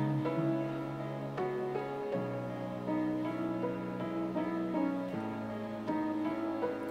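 A melodic music loop from a sound kit plays alone at low level, with steady sustained tones that shift in pitch every second or so, and no drums or voices.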